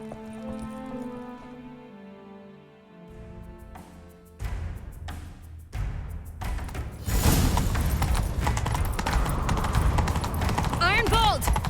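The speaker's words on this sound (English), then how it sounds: "Grab a horse, we'll chase him down." Horse hooves galloping in The Witcher 3 video game, with clip-clop beats starting mid-clip and growing into a steady, loud gallop, alongside game music and a shouted voice.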